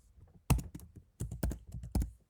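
Typing Python code on a computer keyboard, a few close, quiet key presses followed by a quicker burst of clacks, with no talking.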